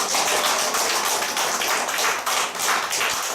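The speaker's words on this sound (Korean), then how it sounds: "여러분의 인생을 맡아주실 하나님을 찬양하는 박수를 올려주십시오." Sustained group clapping from a church congregation in praise during a service, a thick, continuous patter of many hands at fairly close range, with no voices on top.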